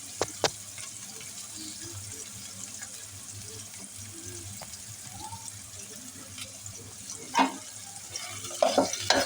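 Sliced onions with bay leaf, cinnamon, cloves and cardamom frying in oil for duck curry: a low continuous sizzle with a few sharp spoon knocks against the pan and stirring scrapes that grow busier toward the end.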